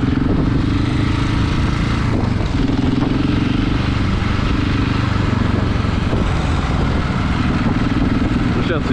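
A motorcycle carries its newly licensed rider on a first solo ride, its engine droning loud and steady throughout with rushing wind noise, recorded close on the bike.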